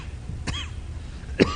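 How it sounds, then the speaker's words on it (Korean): Two short, quiet coughs a second apart, the second slightly sharper, from a speaker during a sermon, over a faint background hum. "이런 말만 하려고 하면 기침이 나요."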